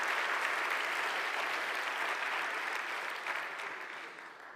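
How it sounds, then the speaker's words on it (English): An audience at a finals event for a math competition claps in sustained, dense applause that holds steady and slowly fades toward the end. "give a warm applause to Ricardo"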